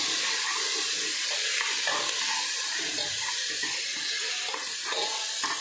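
Paneer roasts in a pan for a Punjabi matar paneer namkeen rice pulao, a steady close sizzle with scraping and stirring of the pan throughout, no speech.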